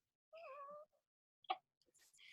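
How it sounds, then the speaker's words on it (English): A six-toed Hemingway cat gives a short, clear meow up close, followed by a few faint small sounds and soft noises in an otherwise quiet room. "She's a Hemingway cat"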